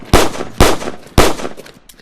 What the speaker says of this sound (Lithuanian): O tarnybinis pistoletas, kurį man davė už dyką, visiškas šūdas